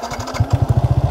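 A 2020 Yamaha YZF R 125 motorcycle engine running close by, a low, evenly pulsing thrum that settles into a steady rapid beat, loud and alone without talk.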